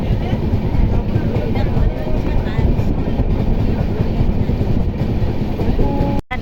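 A crowded train on the way to Puri rolls along the rails with a steady loud rumble and rhythmic clatter of wheels, heard from inside the carriage, with faint voices mixed in.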